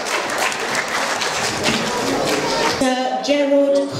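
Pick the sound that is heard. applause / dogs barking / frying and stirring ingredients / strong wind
applause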